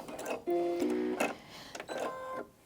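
A Brother Innov-is NV2700 sewing machine stitches through eight layers of denim with a loud, close, whirring mechanical drone, in several bursts separated by short pauses and softer clicks.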